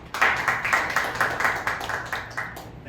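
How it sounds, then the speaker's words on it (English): An audience at a Toastmasters club meeting claps in a short burst of applause, rhythmic and fairly close, tapering off after about three seconds. "So I like to give a round of applause for ourselves."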